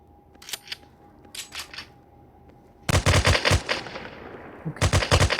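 Machine gun fire in the video game rec.o.r.d: a few scattered distant pops first, then loud, close, rapid automatic bursts rattling for about two seconds, a pause, and another sustained burst.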